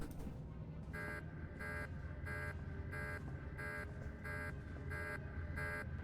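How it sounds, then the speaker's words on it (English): An alarm in the Star Wars: The Old Republic video game blares as a steady series of evenly spaced electronic buzzer pulses, about eight of them, repeating over a continuous low background hum. "There's an alarm going off."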